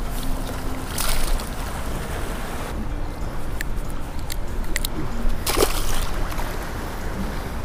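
A fishing boat trolling back in towards Owl Creek after a run outside Rudee Inlet along the jetty, its engine a steady low drone under rushing wind and water, with a few brief splashes and knocks.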